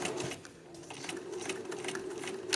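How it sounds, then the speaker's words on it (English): A sewing machine runs steadily, stitching the undercollar onto a jacket at the back neck with a continuous, even whir that stays close for a short, uninterrupted run. "I'm going to stitch."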